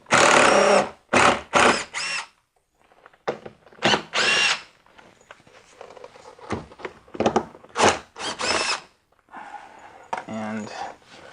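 A power driver with a T20 bit spins out screws on a BMW E46 window regulator, running in loud repeated bursts of a second or so, with someone talking in the pauses.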